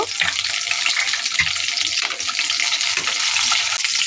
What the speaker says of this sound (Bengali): তো কাঁচা ঝালটা ফোড়নে দিচ্ছি, হালকা একটু ভেজে নেব